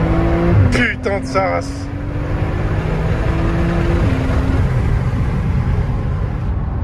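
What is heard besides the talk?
Porsche 911 Turbo launch control acceleration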